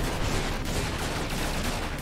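Gunshots in the video game Hand Cop, a loud continuous barrage of rapid shots with no break, nothing else heard between them.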